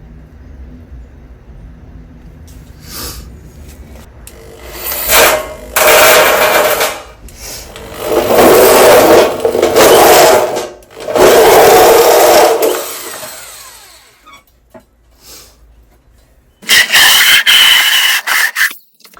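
A power drill whines in loud, uneven bursts as homemade drill-powered metal shears bite through sheet metal, with grinding and rattling between pauses.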